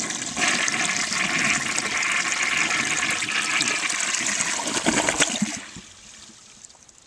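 A 1933 Standard Modernus toilet flushes with a reduced water level, a loud steady rush of water for about five seconds that drains away and trails off into a faint trickle.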